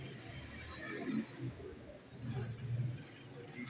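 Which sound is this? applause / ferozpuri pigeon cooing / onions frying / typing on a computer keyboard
ferozpuri pigeon cooing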